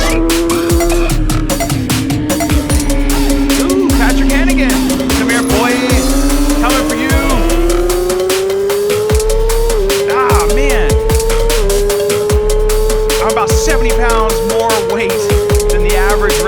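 A racing motorcycle at a WERA race at Road Atlanta, its engine screaming loudly on throttle with a tone that climbs steadily through gear changes, heard close from the bike with heavy wind rush throughout.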